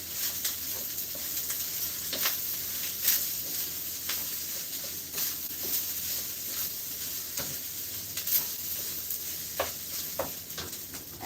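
Spicy mango cilantro lime rice with its ingredients being stirred in a pan: a steady hissing sizzle under scattered close scrapes and clicks of a utensil against the pan.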